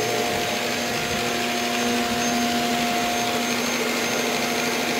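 A Shark Apex vacuum cleaner with a self-cleaning brush roll runs steadily, a loud, continuous whirring roar with a constant motor whine and no breaks or voices.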